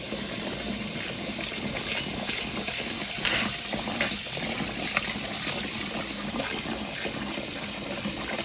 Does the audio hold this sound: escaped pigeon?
no